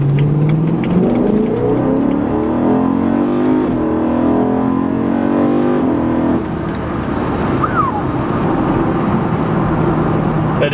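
A BMW E90 M3 pulls hard from inside the cabin, its intake roaring as the engine climbs through the revs in rising sweeps, then eases off to a steadier cruise.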